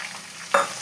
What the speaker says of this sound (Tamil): இப்போது நான் ஆனியன் சேர்த்துக்கிறேங்க